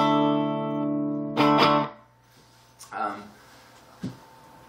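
A clean-toned electric guitar rings out with a sustained chord, then several shorter strums and plucked notes fade at moderate volume through the amp rig, with a voice briefly audible.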